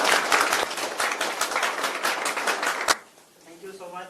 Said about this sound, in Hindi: आप लोग खड़े हो जाइए और जोरदार तालियों से सब लोगों का स्वागत करते हैं